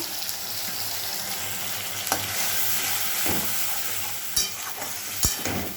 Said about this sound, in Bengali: এবার আমি এখানটা আদা জিরে কাঁচা লঙ্কা শুকনো লঙ্কা দুটো মিক্স করে আর একটু রসুনও দিয়ে দিলাম, টমেটো সব দিয়ে একবারে কষাবো